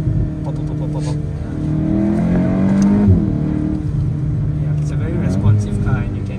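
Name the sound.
sports car exhaust revving and popping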